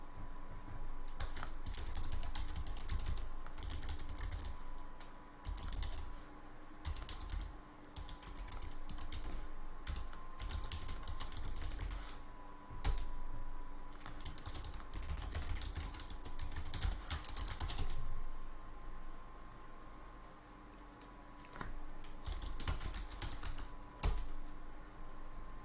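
A sudo git clone command is typed on a computer keyboard in quick bursts of close, crisp key clicks, broken by short pauses, with no talking.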